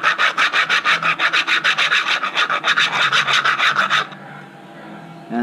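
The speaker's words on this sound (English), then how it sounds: "I can sand it down a little more, probably." A 3D-printed Glock 17 magazine in glossy black plastic is sanded by hand in quick, rhythmic back-and-forth rasping strokes, about twenty close, loud passes that stop abruptly, leaving quiet room tone.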